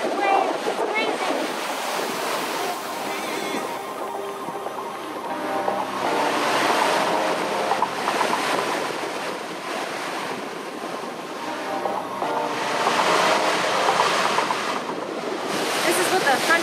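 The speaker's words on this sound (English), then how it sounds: "This is what the front of the squall is like." Strong gusting wind roars over crashing, surging waves at the front of a squall on a sailboat crossing the Atlantic, rising and falling in loud waves of noise throughout.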